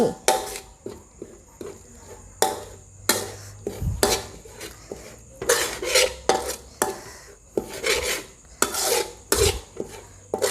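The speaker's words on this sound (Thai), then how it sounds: "ผัดน้ำพริก ด้วยกะทินะคะ ค่อยๆ หยอดไปทีละนิดนะคะ แล้วก็ผัดไฟอ่อนๆ" Green curry paste being stir-fried with coconut milk over low heat, with repeated scraping and rasping of a utensil against a pot and occasional metallic clinks, coming in irregular bursts with no talk.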